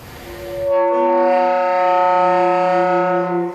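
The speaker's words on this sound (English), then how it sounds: "you play a false fingering on your saxophone and it makes a really awful sound" A saxophone played with a false fingering during a symphonic band concert, sounding a loud, sustained, harsh multiphonic tone with several clashing pitches that starts abruptly after a brief murmur and holds steadily.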